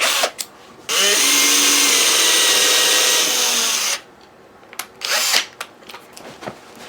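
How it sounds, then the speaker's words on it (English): Power drill boring a fresh screw hole, likely into wood, while mounting a 737 yoke pitch axis: one steady, loud, close whine of about three seconds, with short clicks and handling knocks before and after. "So I'm just going to drill a new one"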